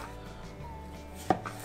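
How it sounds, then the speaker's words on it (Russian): A single sharp knife chop through a potato against a cutting board, with a quieter tap just after, over a steady low kitchen hum. "Нарезаем вот на такие дольки всю картошку."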